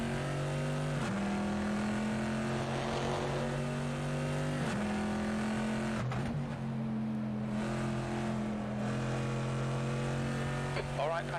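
Corvette C7.R race car engine with the Fonseca sound mod in a racing video game at Tor Poznań, a loud sustained roar holding steady, with brief shifts and a dip near the middle.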